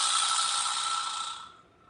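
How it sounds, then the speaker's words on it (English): A vibraslap is slapped once and gives a bright, buzzy rattle that holds steady, then fades out over about a second and a half, close and alone. "this thing here is called a vibra slap, because when you slap it, it vibrates"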